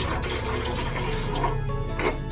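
Water pours steadily into an idli steamer while Odia manda pitha is prepared in a home kitchen, a continuous close splashing, gurgling stream with no break and no talking.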